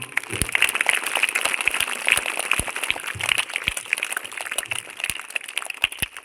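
Children applaud for a boy's birthday at a school prayer assembly, a sustained patter of many small hands clapping, fairly close and steady for several seconds.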